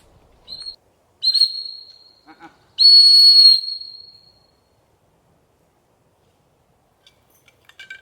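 A dog training whistle shrills sharply during a gundog retrieve, first a short blip, then a brief burst and a longer, louder sustained blast, separated by quiet gaps, with faint scattered sounds near the end.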